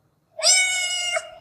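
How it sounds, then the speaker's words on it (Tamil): A cat gives a single clear, drawn-out meow, close and loud, rising then fading after about a second, against silence. "the cat is meowing"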